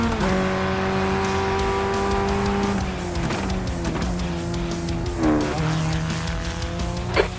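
A Ray FF1600 formula car in the iRacing sim on a qualifying lap at Winton Motor Raceway, its engine loud and close, revving and dropping through gear changes with brief tire squeal into corners.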